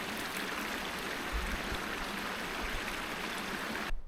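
Water rushing steadily in a mountain creek on the Two Ocean Plateau in Yellowstone, a continuous close broadband wash and babble at even loudness, cutting off abruptly near the end.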